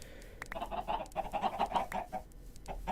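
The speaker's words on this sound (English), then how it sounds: "And then we will feed the chickens." Minecraft video game chickens give a steady run of quick, overlapping clucks that hold at an even, moderate loudness throughout, with no voices.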